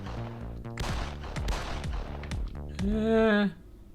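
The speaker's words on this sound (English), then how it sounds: "Whoops, fired a shot there" A gun in a video game fires a series of sharp, punchy bangs in quick succession, followed by a short rising electronic tone.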